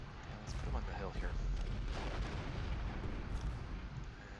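Artillery fire in the Ultimate General Gettysburg video game, a steady rumble of cannon booms and scattered gunfire over a dense low roar, with voices talking over the battle noise.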